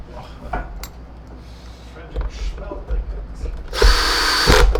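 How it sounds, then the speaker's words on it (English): Power drill driving screws into the pot-metal housing of a Riccar Radiance RAD.4 R40 vacuum cleaner, a loud burst of whirring near the end after quieter handling clatter. "we're not done screwing yet. And I'm just getting to the first batch of screws."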